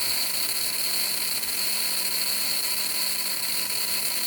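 Full-throttle whine of an RC4WD TF2 crawler drivetrain with an upgraded transfer case, a steady high mechanical gear buzz that holds constant and close throughout with no talking.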